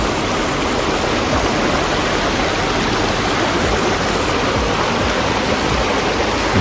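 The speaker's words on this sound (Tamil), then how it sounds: "அப்படியே பாருங்கள், இந்த வாட்டர் ஃப்ளோ அப்படியே பாருங்கள்." Water rushes steadily down the stream at Soormane waterfalls in Karnataka, a loud, close, unbroken wash of noise with no pauses.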